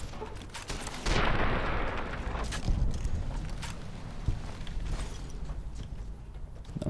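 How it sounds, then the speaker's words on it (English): Gunfire in the video game Fallout New Vegas: a burst of shots followed by scattered reports over a steady rumble, moderately loud with no voices. "And that's what I call shooting."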